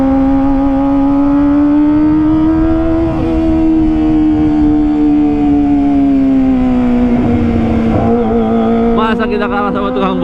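A Kawasaki ZX25R motorcycle's high-pitched engine screams near and loud while racing on a road, holding a steady wail with slight pitch sways and a shift near the end.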